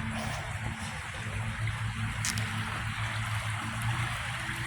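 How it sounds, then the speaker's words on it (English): Antietam Creek flowing steadily, a continuous soft rush of moving water with a low rumble beneath, fairly distant and alone with no voices. "So this here is the lovely Antietam Creek."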